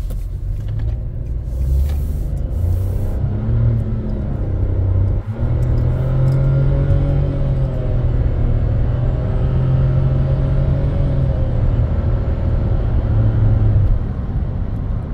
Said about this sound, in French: Voilà, là j'ai fait une accélération pleine charge.